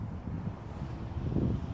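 Breezy afternoon wind buffets a phone microphone near a busy street, a steady low rumble with gusty swells and no talking.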